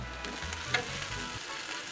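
A Mexican hashbrown omelet sizzles steadily on a Blackstone griddle, with a brief sharp scrape partway through as a spatula flips it. No talking.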